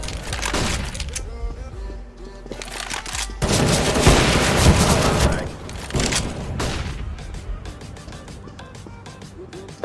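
A flashbang grenade is thrown in a CS:GO match, bursting amid a dense barrage of rapid gunfire and explosive booms, loud and chaotic, with a heavy blast swell in the middle of the gunfight.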